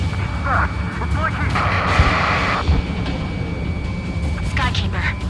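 A missile attack on aircraft in the flight combat game Ace Combat 7: a loud, sustained roar of engines and weapons fire with sharp thumps and bursts, under radio-style voices calling out warnings.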